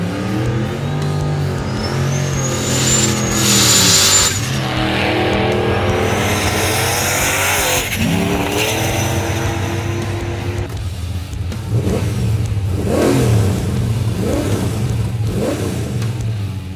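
A 1000 hp car launches down a dragstrip, engine screaming loud and close as it revs up through rising gear pulls, with tyre noise and fading runs in the later part.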